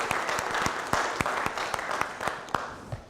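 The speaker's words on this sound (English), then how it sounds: "Let's give everyone a round of applause." Audience applause fills the hall at the closing remarks of a BRICS university gathering, a steady dense patter of many hands clapping with sharper individual claps standing out, close and continuous for the whole stretch.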